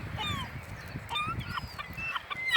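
Seagulls squabble over a starfish, giving repeated harsh, honking calls in overlapping bursts, close and fairly loud over a low rumble of background noise.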